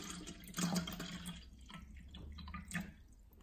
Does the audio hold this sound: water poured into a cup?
yes